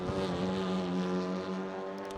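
A damaged race car engine in RaceRoom at Laguna Seca, in a WTCR touring car, droning with a steady rough, buzzy tone, heard close and sustained without much change in pitch.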